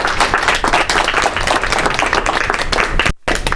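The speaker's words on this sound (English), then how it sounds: "Could we please give him a round of applause for this?" Audience applauding a speaker at a Museum of Flight aviation talk, dense steady clapping from a crowd close by that cuts off abruptly near the end.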